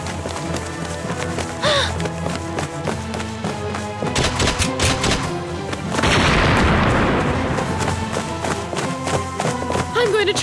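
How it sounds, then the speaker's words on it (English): Cartoon gunfire and blasts from a Winx Club episode: sharp shots scattered over a busy music-and-effects background, followed by a loud, sustained roaring blast in the second half. "Let's shoot our way through! Come on, fire now!"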